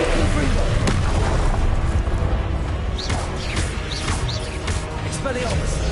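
Blasting spell explosions from the Hogwarts Legacy video game, several heavy booms and bursts in quick succession amid dense continuous combat noise, with a voice shouting over the battle.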